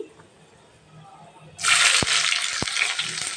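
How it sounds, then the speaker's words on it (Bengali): Chopped onions tipped into hot oil with beef for an Eid dish, bursting into a loud, steady sizzle that starts suddenly partway through and keeps crackling after a quiet stretch. "এখন আমি পেঁয়াজের কুচি দিয়ে দিচ্ছি।"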